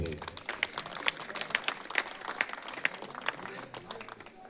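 An audience claps continuously at a special school's annual function, a steady run of crisp applause from a moderate-sized crowd.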